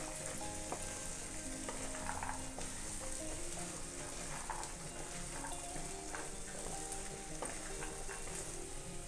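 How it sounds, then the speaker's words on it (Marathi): Mixed vegetables for bhogichi bhaji fry in a pan with a steady, dense sizzle, and a spoon stirs them with light scraping and occasional clicks against the pan, with no voices. "त्या सर्व भाज्या चांगल्या मिक्स करून घ्यायच्यात"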